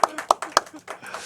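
A church congregation applauds during a Sunday morning service, several loud sharp claps in an uneven burst that soon thins out.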